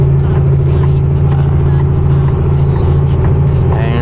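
A truck engine in ninth gear holds around 1,600 to 1,700 RPM at a crawl of about 24 km/h, giving a loud, steady, close low drone that never lets up.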